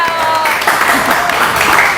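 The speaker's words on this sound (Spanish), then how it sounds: "Un aplauso para ustedes también que están ahí atrás" Audience at a seminar hall applauds in a short, fairly loud burst of clapping that swells after a brief moment, with some voices mixed in underneath.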